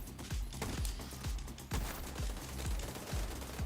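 Turret gunfire in The Division 2 comes as a rapid, even series of loud repeated shots over a steady background roar, close and continuous.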